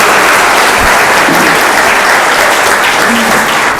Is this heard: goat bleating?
no